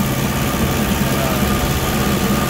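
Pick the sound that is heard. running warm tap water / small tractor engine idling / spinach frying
small tractor engine idling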